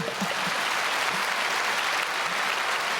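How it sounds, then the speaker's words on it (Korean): A church congregation breaks into steady, even applause, a dense wash of clapping from many hands that continues evenly without pause. "박수 치세요. 박수 치세요."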